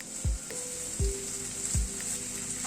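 Ginger, green chili, onion and poppy seed paste frying in a pan, a constant close sizzle with three soft knocks of a spatula stirring at regular intervals.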